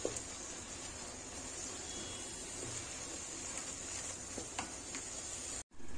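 Food being stirred in a pot with dry coconut powder while it cooks, a soft continuous sizzle and scraping that cuts off abruptly near the end.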